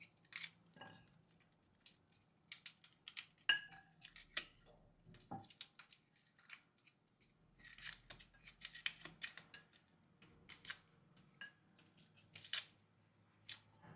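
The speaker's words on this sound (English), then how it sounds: "So we clean our garlic, remove the outer parts." Two cloves of garlic being peeled by hand, their papery outer skins crackling and rustling in short, close, irregular bursts with quiet pauses between, no voices present.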